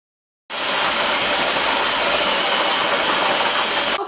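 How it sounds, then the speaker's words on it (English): An electric hand whisk beats butter and sugar together for a caramel-drizzled apple cake. It makes a loud, steady, close whirring rattle that starts abruptly after a short silence and runs on without a break. "now we're going to add our sugar, and we're going to whisk that together"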